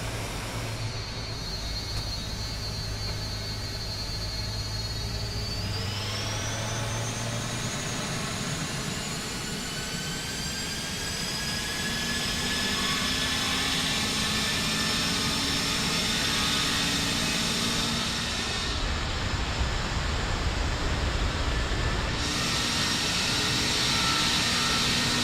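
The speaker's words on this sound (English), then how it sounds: "Let's listen to the engine sounds" Jet engines of a Lockheed L-1011 TriStar trijet in Microsoft Flight Simulator 2024, spooling up at takeoff with a rising whine over a loud, continuous roar that builds and holds steady throughout, with no talking.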